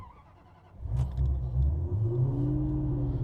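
A 1995 Aston Martin V8 Vantage V550 engine cranks and catches from cold, then settles into a loud, steady, deep rumbling warm-up idle close by.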